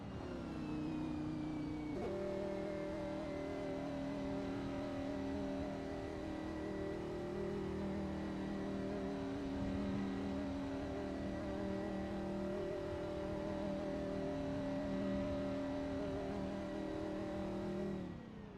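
A Corvette GT3 race car engine in a racing video game, pulling out of the pits at Le Mans: a steady, loud engine drone with layered harmonic tones that step up after a couple of seconds, then hold constant throughout.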